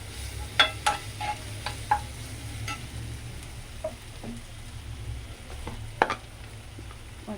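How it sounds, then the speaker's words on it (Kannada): Coriander powder and garam masala fry in a pan for dhaba-style palak dal tadka: a quiet, steady sizzle broken by scattered spoon taps and scrapes against the pan. "ಹಾಕಿ ಚೆನ್ನಾಗಿ ಫ್ರೈ ಮಾಡ್ಕೋಬೇಕು."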